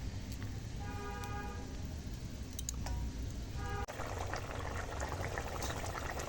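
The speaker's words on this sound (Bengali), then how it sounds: "দেখো ঝোলটা ফুটে গেছে" A pot of fish curry gravy, katla kalia, is boiling for a picnic meal: a steady bubbling, hissing roar fills the clip, with a soft knock partway through and a denser burst of bubbling afterward.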